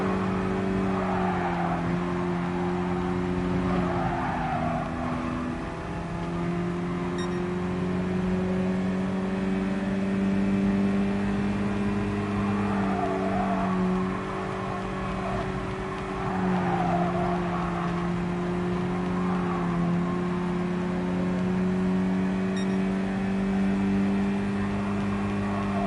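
Race car driven in Gran Turismo Sport, a continuous moderate engine whine holding steady pitch with small dips and rises as it shifts and corners, with faint tire scrubbing and no talk.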